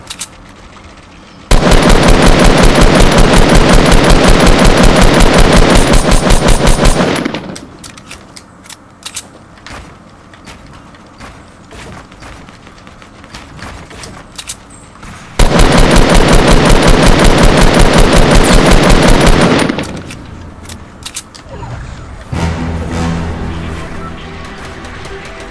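Sustained automatic gunfire in the video game Fortnite Battle Royale comes in two long, dense, loud bursts of several seconds each, separated by quieter stretches of clicks and mechanical game sounds.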